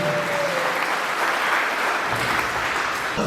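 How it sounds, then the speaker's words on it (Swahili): A church congregation at a sermon in Ruiri, Meru County claps together in a dense, continuous burst of applause that holds steady throughout, with no speech over it. "Pigia Yesu makofi mazuri."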